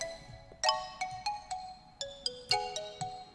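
Strummed chords programmed in an FL Studio trap beat ring out as bright, plucky arpeggiated hits, each chord's notes rolling quickly in a light rhythmic pattern, fairly quiet and with no speech.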